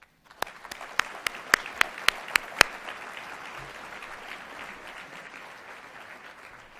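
Banquet audience at an agricultural sciences scholarships and awards dinner applauding to welcome a speaker: a few sharp early claps, then sustained, fairly close clapping from a moderate crowd that gradually thins out.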